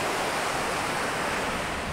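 Sea waves at Marari Beach in Kerala, a loud, steady broadband surf roar with constant wash and no distinct breaks, no voices present.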